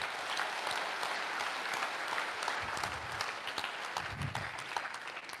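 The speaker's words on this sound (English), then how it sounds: "they deserve a big applause" Steady, dense applause from a large crowd at a live public talk in Durban, sustained evenly at moderate volume throughout.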